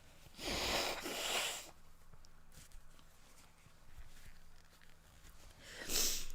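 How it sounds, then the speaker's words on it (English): Two strong bursts of nose blowing close by, then quiet rustling and small noises, followed by one more short blow at the end. "I'm going to blow my nose for a second."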